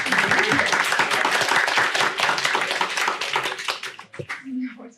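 Audience applause at a talk on capitalist crisis, a close, dense crowd of clapping hands that thins and tapers off near the end.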